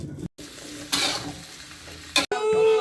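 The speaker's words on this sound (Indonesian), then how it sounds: "Tumis kentang." Potatoes stirred in a pan with chili and spice paste, a seasoning base for a pindang dish with jengkol: bursts of sizzling and scraping broken by short gaps, ending in a brighter frying hiss.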